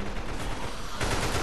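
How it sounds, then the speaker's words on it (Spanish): Gunfire from a teammate in a zombie video game, a dense continuous rattle of shots running through the whole moment, growing slightly louder toward the end. "está disparando un compa"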